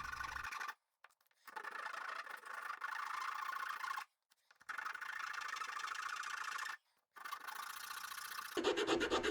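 Aluminum sheet template edges are filed smooth near strain-relief arcs, heard as three long, close, raspy rubbing strokes separated by brief silent pauses, with a final harsher scrape at the end.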